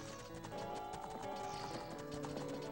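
Epona, the horse in Ocarina of Time, gallops in a steady, rapid rhythm of hoofbeats that holds at a close, even level for a few seconds, with no one speaking over it.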